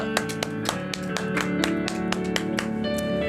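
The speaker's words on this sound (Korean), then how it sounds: "오늘도 우리 함께 하신 우리 하나님께 감사의 박수 드리겠습니다" During a Korean New Year worship service, the congregation claps in a steady rhythm over ongoing organ or keyboard music, with sharp, evenly spaced handclaps sounding close and fairly loud.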